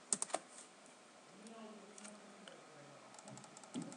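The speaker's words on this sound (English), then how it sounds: "Type cmd to open the command prompt," Computer keyboard typing while entering a command in the Windows command prompt, with a quick burst of close, crisp key clicks at the start followed by quieter scattered taps under faint background.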